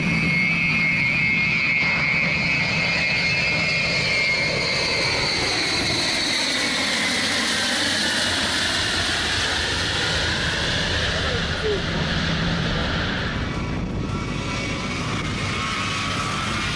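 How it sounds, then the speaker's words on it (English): A four-engine Ilyushin Il-62 airliner makes a low pass, its engine roar swelling and sweeping in pitch as it approaches and passes, loud and sustained throughout. "this was followed by the low flight pass of a 4-engine Illusion 62"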